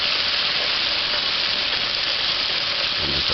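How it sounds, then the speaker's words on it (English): Chicken and noodles frying in a pan, a steady close hiss and sizzle that holds evenly throughout with no talking. "And just allow that to fry."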